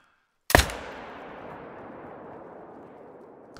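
A single sharp rifle shot in a red deer hunting video game cracks loudly and close, then a long rolling echo slowly fades over about three seconds.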